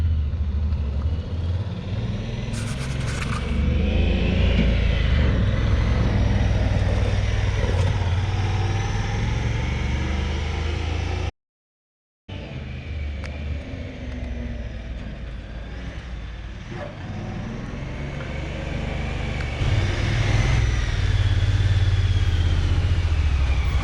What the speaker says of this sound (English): I'm gonna take it for another test drive.